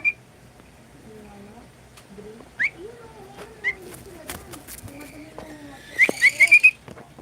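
Bright bird chirps ring out sporadically, ending in a quick rising trill, over quiet background murmurs and soft noises.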